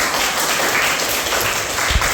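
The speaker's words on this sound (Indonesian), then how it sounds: "Ya, tepuk tangan." A classroom of students applauds together after a lesson discussion on Indonesia's financial services authority, a steady, dense patter of many hands that carries evenly to the end.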